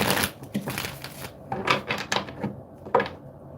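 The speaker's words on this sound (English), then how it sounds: "I'm going to do 2 more shuffles for you" Tarot cards shuffled by hand during a live card reading, a run of soft riffling and papery slaps in uneven bursts, close and fairly quiet, with no talk over it.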